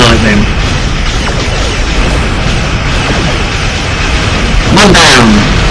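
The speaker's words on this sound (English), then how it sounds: "There we go, have some torpedoes." Star Trek Online space combat: a ship fires torpedoes in a dense rumbling wash of game noise, with a loud bright burst near the end as one detonates, swelling and sweeping through the mix under continuous game sound.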